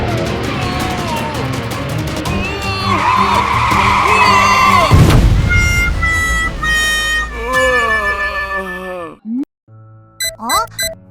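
Cartoon monster truck with a nail-pierced big wheel skidding out of control: loud squealing tire screeches and revving engine noise over music and effects, ending in a crash-like burst and short bouncy sounds.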